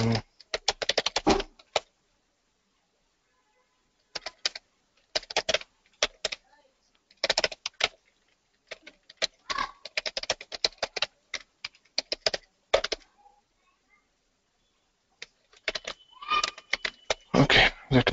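Someone types on a computer keyboard to change a password, rapid clusters of close, crisp key clicks broken by short pauses, with bursts of varying length and no talking.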